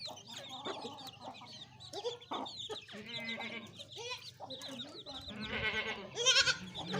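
An Aseel rooster of a prized fighting breed clucks and calls in repeated bursts, close and fairly loud, with other farmyard fowl sounds mixed in and no talking.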